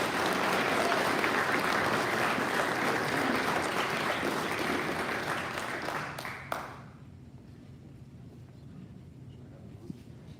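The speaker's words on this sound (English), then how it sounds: "Let's give him another big round of applause." Audience applause at a Rotary club meeting, loud and sustained for about six seconds before quickly fading into a quiet room with faint stray sounds.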